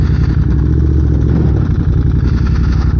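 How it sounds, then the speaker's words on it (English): A 2022 Ducati Monster Plus with a 900-odd cc L-twin engine runs steadily, a loud, close, low rumbling idle that holds even for about three seconds with no talk over it. "2022 Monster Plus made by Ducati. It uses a 900 and something cc L-twin"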